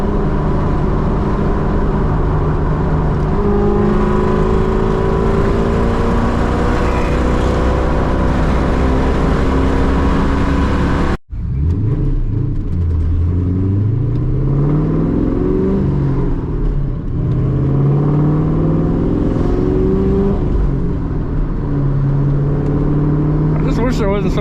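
A straight-piped 2003 Ford Mustang GT pulls hard from inside the cabin, its loud exhaust rising in pitch through the gears, cutting out briefly before climbing again in steady sweeps with talk over the engine.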